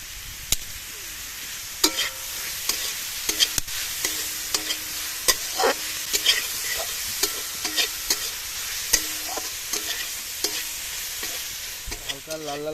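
Chicken frying in a pan for chicken soup, with a spoon scraping and stirring in repeated sharp strokes over a steady, moderate sizzle. No voices.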